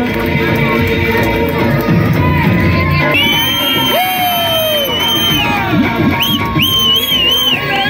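Crowd at a Sankranti celebration cheering with whoops and shouts, loud and continuous throughout, with children's voices and high yells rising over the noise.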